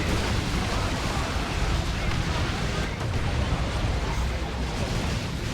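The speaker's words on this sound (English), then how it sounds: "Oh, the other Fire Prism went down, I guess." An Eldar Fire Prism tank is destroyed in a Dawn of War 2 battle against Tyranids, producing a heavy, continuous roaring blast that fills the clip with dense rumbling noise, loud and unbroken.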